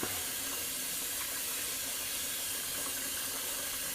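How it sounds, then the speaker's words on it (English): Tap water runs steadily into a bathroom sink during a wet shave, a constant hissing gush heard close up and uninterrupted, without talk. "I'm just going to put a little more water in my sink"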